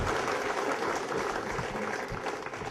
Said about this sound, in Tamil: உங்களுடைய பலத்த கரகோஷங்களுக்கு நடுவே